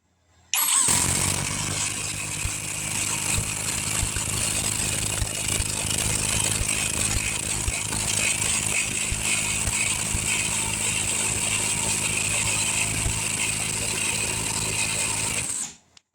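A SCANS 20V brushless impact driver drives a bolt in one loud, continuous burst of rapid hammering that lasts about fifteen seconds and then cuts off abruptly, close up.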